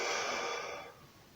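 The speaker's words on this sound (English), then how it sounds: "And the breathing again out." A steady exhalation during morning stretching exercises, a close, breathy whoosh that starts strong and tapers off softly, with no talk.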